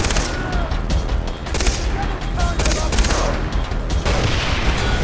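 Far Cry 3 gunfire: rapid bursts of automatic shots and sharp cracks in dense clusters, loud and close throughout, with a voice talking underneath.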